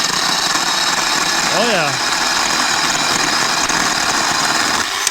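A Harbor Freight 10-inch electric chainsaw cuts through hard wood, its motor whining steadily with a brief rising and falling pitch sweep partway through, while someone speaks briefly over it.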